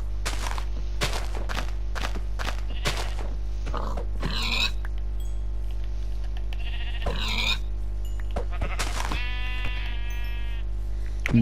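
Sheep bleat in a Minecraft-style game, with several short, close, nasal bleats spread through the stretch over a steady low hum and scattered clicks and thunks.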